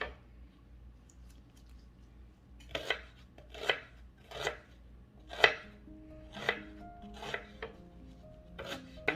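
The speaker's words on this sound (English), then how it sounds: "So I'm going to cut some onions here." Onions chopped with a knife on a cutting board, about eight distinct crisp cuts in an uneven rhythm, close and fairly quiet against a still room.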